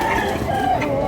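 A rooster offered for sale at a backyard poultry farm gives loud, steady clucking calls that carry through the whole moment with no talk over them.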